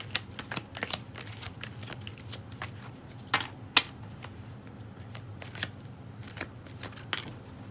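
Tarot cards being shuffled by hand up close, a steady run of soft riffling and slapping card sounds with scattered sharper snaps, no one speaking.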